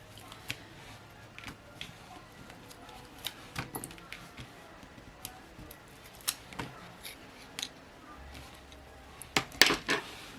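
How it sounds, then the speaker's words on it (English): Backing being peeled off double-sided tape with a weeding tool during card making: a quiet series of small crinkles, ticks and scrapes, sparse and close, with a brief cluster of sharper crackles near the end. "I'm going to use my weeding tool, and I'm just going to take off the backing of the double-sided tape"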